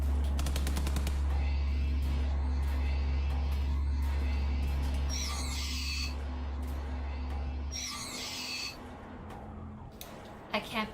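Rapid video-game gunfire rattles in steady bursts through the first eight seconds under a low engine-like drone, then stops, leaving quieter game ambience with a couple of brief thumps near the end.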